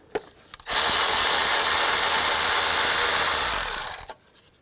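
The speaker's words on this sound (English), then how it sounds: "Take a 12mm socket, take this bolt out." A socket tool runs on a 12mm bolt on a 2003-08 Nissan Maxima engine, starting after a short pause with one loud, continuous whirring buzz that lasts about three seconds and then cuts off.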